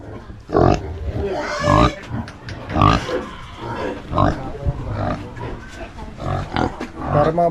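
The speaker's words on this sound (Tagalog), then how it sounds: "Crossbreed siya ng baboy damo." Pigs, an F1 crossbreed of domestic pig and wild boar, grunt and squeal loudly in repeated bursts at close range, with people talking over them.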